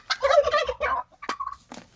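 Turkeys gobble in a backyard pen alongside chickens, a couple of close, rapid warbling bursts separated by short pauses.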